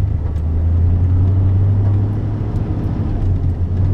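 Cold engine with a badly set choke running rough, a loud close low rumble with an uneven, faintly stuttering pulse throughout, no voices.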